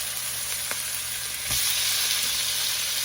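Seasoned chicken searing in a hot, oiled pan gives a steady close sizzle and crackle, rising louder halfway through as more meat hits the oil, with no talking.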